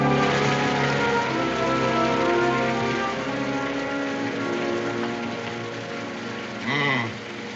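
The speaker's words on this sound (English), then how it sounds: "I would have preferred that it hadn't rained tonight." Steady rain falls at night, a dense continuous patter on surfaces lasting throughout, with a brief louder rise near the end.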